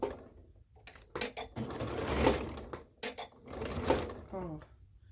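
A sewing machine stitches the waist of a bodice in short bursts of rapid, close mechanical whirring separated by brief pauses.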